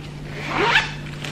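Zipper on an inner compartment of a small handbag, one quick pull lasting under a second, close and crisp, with no talk.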